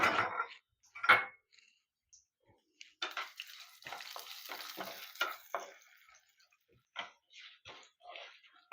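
Urad dal and chana dal fry in a small pan of oil, giving soft, scattered sizzling crackles in short bursts with quiet gaps between them.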